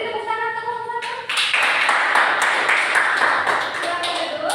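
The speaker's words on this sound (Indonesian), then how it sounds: "boleh tepuk tangan, tepuk tangan" A high school class breaks into clapping after a student group's answer, a few seconds of mixed, continuous handclaps following a teacher speaking, with voices under the noise.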